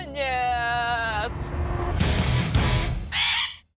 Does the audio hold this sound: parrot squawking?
yes